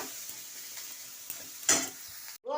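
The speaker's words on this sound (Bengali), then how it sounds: "বেগুনটা ভাজা হয়ে গেলে এবার পেঁয়াজ লঙ্কা দিয়ে তারপর ভাজবো।" Eggplant frying in hot oil in a home kitchen, a steady soft sizzle with faint stirring, a sharper burst of crackle near the end, then a brief cut before it resumes.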